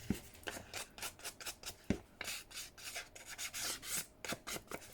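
An inked handmade paper tag is folded and creased, giving a run of close, quiet rubbing and scraping strokes in an uneven rhythm, with no talking.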